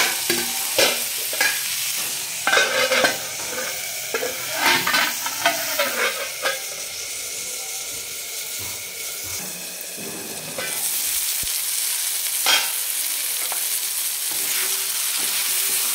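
Potatoes and spinach frying in a pan, stirred with repeated scraping strokes over a steady sizzle that swells into a louder continuous hiss partway through, close and loud.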